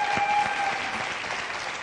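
A studio audience at a television talk show claps in a dense, steady burst of applause that stays loud throughout and fades slightly toward the end.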